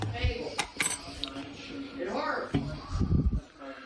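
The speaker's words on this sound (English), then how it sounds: "I'm going to stir it up one more time" A utensil stirs microwave scrambled eggs in a dish, giving a few scraping clinks and knocks against the dish, close up, with someone talking over it.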